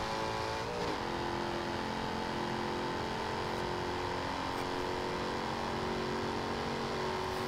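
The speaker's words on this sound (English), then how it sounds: "This 5-liter V8 is really working to push it." A 2015 Jaguar F-Type R coupe's 5-liter V8 strains under acceleration in Forza Horizon 2, a steady loud engine drone holding pitch with a brief gear-change wobble near the start, no talking.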